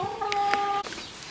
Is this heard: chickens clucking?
yes